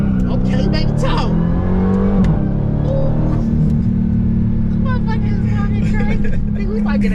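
A Dodge Hellcat Jailbreak's engine rumbles and revs steadily nearby, with people talking and chatting over the sound throughout.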